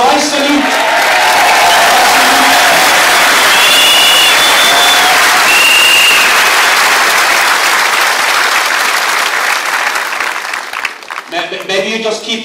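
Rally crowd applauding in a stadium, a loud, dense, sustained wall of clapping with some cheering and whistles, tapering off near the end as a voice comes back in.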